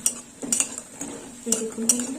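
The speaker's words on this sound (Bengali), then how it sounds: "এই বড়াগুলো এবার তুলে নেবো" Crisp fried fritters are lifted out of a pan with a metal utensil, giving repeated loud clinks and scrapes against the pan over a faint background sizzle.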